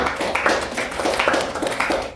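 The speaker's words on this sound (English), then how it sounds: "let's give her a round of applause and welcome her home" An audience at a Rotary gathering in Petersburg, Virginia applauds with a dense, steady patter of many hands clapping together.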